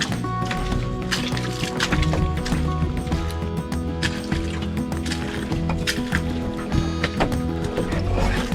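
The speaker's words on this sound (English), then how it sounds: "Paddling through" Canoe paddling in the Boundary Waters wilderness, with paddle strokes splashing and dripping in an irregular rhythm close by, over a steady background of water and outdoor noise.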